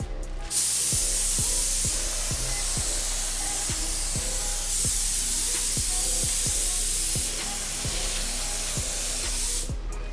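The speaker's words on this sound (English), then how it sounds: "we're putting the first coat of clear coat on" A spray gun lays the first coat of clear coat onto a car body in a home DIY paint job, producing a steady loud hiss with short periodic pulses as each pass is made, running continuously with no talk.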